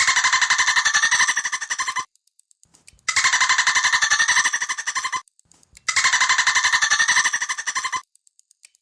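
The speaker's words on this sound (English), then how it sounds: "It's a dolphin." A dolphin gives three rapid bursts of high, buzzing clicks and chattering squeals, each burst lasting about two seconds and separated by brief pauses, loud and close.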